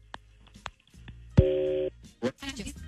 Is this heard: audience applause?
no